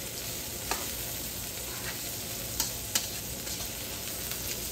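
Sausage, onions and peppers tossed in a greasy pan, a steady low sizzle broken by a few clicks and scrapes of stirring, moderately quiet and without voices.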